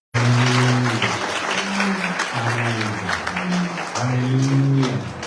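A congregation at an ordination worship service applauds and cheers loudly, a dense, steady wash of clapping with rising shouts and sung voices swelling over it throughout.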